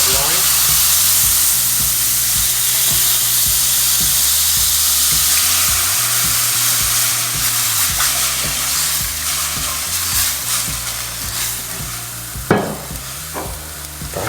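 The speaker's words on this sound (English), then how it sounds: "what we're going to do now is deglaze the pan with some red wine" Red wine poured into a hot pan for beef short ribs, with loud, steady sizzling and bubbling, spoon stirring and scraping throughout and a sharper hiss burst near the end.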